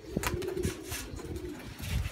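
Domestic pigeons coo close by, a steady low rolling call with soft fluttery bursts and shuffling underneath, no talk heard.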